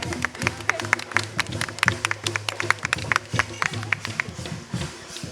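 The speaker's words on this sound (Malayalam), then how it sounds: "എല്ലാവരും ഒരു കയ്യടി കൊടുത്തോ." Applause and scattered clapping from an audience for a school Malapulaya folk dance team from Malappuram, sharp hand claps repeating in an uneven burst over a low background hum, fairly close and sustained for several seconds.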